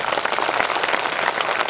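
Audience applause at a Hindi kavi sammelan poetry event in Sehore, a dense, steady wash of many hands clapping close by, filling the whole moment without any talk over it.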